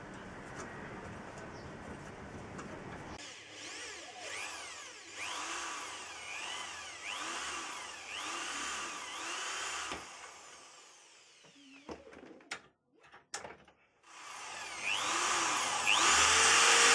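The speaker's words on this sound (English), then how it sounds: "obviously drilling the holes that make them work together" A power drill bores holes in metal for a bicycle trailer linkage, whirring loudly in sustained bursts with pauses and clanks between them, close up in a workshop.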